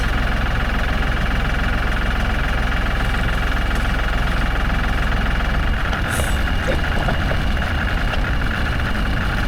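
A tractor engine idles steadily and continuously at close range, a loud low rumble with a faint knocking beat, alone for the whole stretch during a struggle with a tractor tire.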